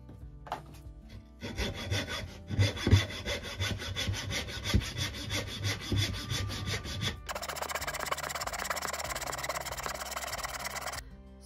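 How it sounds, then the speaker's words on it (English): A wooden board for a soap cutter is cut with a hand saw in rhythmic back-and-forth strokes, close and clear, pausing briefly before a second steady run of sawing. "So I made my three cuts and then I cut the board to the length that I wanted it to be."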